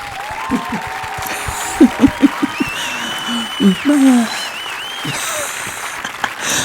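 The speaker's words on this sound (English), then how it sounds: "So y'all give her a round of applause." Applause from an audience honoring a shy mother visiting South Africa, steady clapping running under the whole stretch, with brief laughter and a voice speaking over it.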